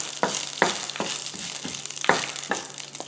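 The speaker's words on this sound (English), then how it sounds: "I'm going to add 2 red chilies and give it a good stir." Two red chilies and legumes fry in sputtering oil for a fenugreek curry. A utensil scrapes and taps the pan in several distinct strokes over a moderate, continuous sizzle.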